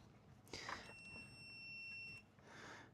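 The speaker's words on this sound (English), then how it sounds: "So we're in continuity mode. We've got the machine that goes beep, beep, beep, beep, beep, beep, beep." A multimeter in continuity mode gives one sustained high electronic beep of about a second and a half, faint and close, over quiet background hum.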